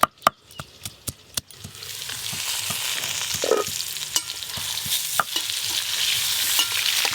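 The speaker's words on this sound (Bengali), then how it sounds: "আলুগুলো ভাজা হয়ে গেছে।" Potatoes frying in a pan for chicken curry, with a steady sizzle and repeated sharp clacks of a spatula stirring and scraping against the pan, close and loud without any talk.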